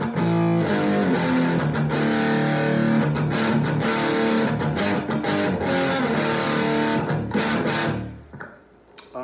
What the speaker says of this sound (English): obviously distortion sound, like I guess 90s distortion